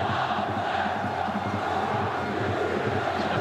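A dense football stadium crowd roars and chants steadily through a Jordan vs Uruguay match, a loud continuous wash of massed voices with no pauses.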